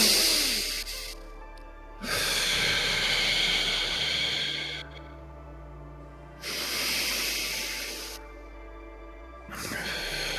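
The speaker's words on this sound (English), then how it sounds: "On our 3rd exhale through our mouth." A deep breath pushed out through the mouth during a guided meditation, heard as two long airy exhales near the mic with a quieter pause between them and a third beginning at the end.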